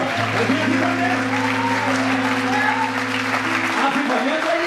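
A church congregation applauds during a revival sermon, steady clapping mixed with sustained tones from an organ or keyboard under it for several seconds.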